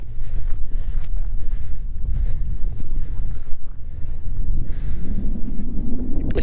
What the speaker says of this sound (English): This is where the prevailing wind comes up